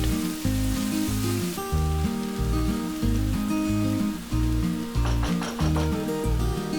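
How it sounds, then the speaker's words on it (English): Chopped onion fries in a pan for a carrot and peas pulao, giving a continuous bright sizzle heard under loud rhythmic background music, with no speech. "Then add 1 onion chopped and fry it until the onion is nice and soft."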